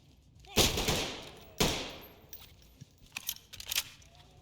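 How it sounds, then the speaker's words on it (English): Video-game gunfire: two loud close shots with ringing tails, then a scatter of fainter, quicker distant shots. "There's somebody shooting at me from like over there."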